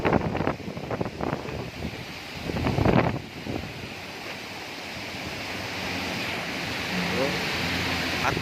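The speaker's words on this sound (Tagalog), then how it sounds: "paglakas ng hangin" Strong typhoon wind roars steadily and loudly across the microphone, with heavy gusting buffets early on and a continuous rushing wash throughout, like surf; faint voices are partly buried beneath it.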